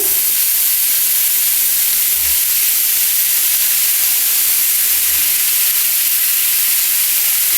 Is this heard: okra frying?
yes